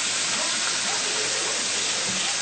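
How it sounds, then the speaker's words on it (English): Water pours into a sauce jar as a loud, steady rushing hiss that runs without a break, close up and with no voices. "you take the jar and you put a little bit of water in there"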